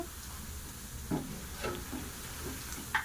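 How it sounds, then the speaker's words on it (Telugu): Veg manchurian balls deep frying in hot oil, a steady soft sizzle and bubbling hiss with a few brief clinks and stirs, close and fairly quiet. "బాల్స్ అనేది డీప్ ఫ్రై చేసుకోవాలండి"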